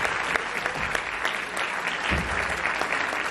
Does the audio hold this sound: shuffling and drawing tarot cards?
no